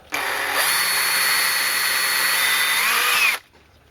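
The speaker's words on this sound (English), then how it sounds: "I take from the inside and I drill" A power drill whines loudly and steadily for about three seconds, biting through plastic, then cuts off abruptly.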